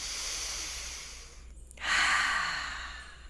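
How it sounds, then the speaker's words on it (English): A deep breath drawn in during a guided meditation, a long airy inhale that pauses briefly and then swells into a fuller, louder breath, close to the microphone and alone without speech. "Deep breath in."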